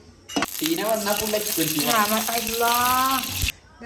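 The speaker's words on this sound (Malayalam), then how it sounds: "നമ്മൾ കുറച്ച് നെയ്യ് ഒഴിക്കണം ആദ്യം." Ghee poured into a hot pan for chicken Hakka noodles, a continuous sizzling hiss that starts abruptly and stops after about three seconds, largely under a person talking.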